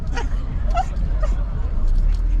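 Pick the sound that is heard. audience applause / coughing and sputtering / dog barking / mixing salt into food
dog barking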